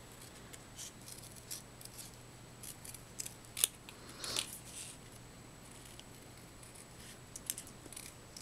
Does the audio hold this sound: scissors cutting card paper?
yes